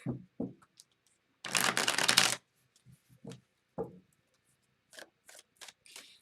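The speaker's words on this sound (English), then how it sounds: "Let's give it a good shuffle" Tarot cards are riffled in a loud, dense burst, then handled with a scattering of soft taps, slides and flicks, close up and without speech.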